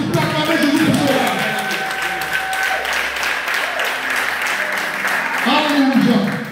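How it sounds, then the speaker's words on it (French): A church congregation applauds and cheers in acclaim of Jesus, with steady crowd clapping and raised voices filling the hall throughout. "Est-ce que tu peux acclamer Jésus pour cela?"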